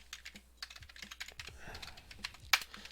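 Fast, quiet typing on a computer keyboard, a close run of light irregular key clicks with one sharper keystroke near the end.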